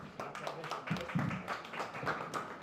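Audience in a lecture hall applauding a law professor at a constitutional law conference, a steady wash of many hands clapping throughout, fairly close and full, with a few louder claps standing out.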